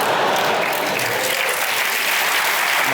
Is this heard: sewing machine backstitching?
no